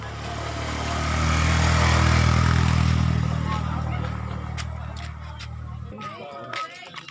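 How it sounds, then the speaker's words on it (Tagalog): A motorcycle engine drones loudly nearby on a barangay road by the Padre Pio Mountain of Healing in San Jose del Monte, swelling and then receding, with voices chattering underneath before it cuts off. "May motor rin."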